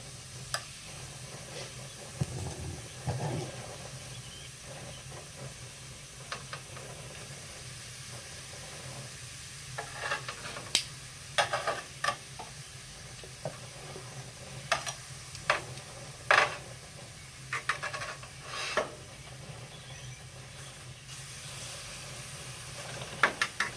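Pork chops sizzle steadily in a hot pan, a soft continuous hiss broken by scattered clicks and scrapes as the meat is arranged, with no one speaking.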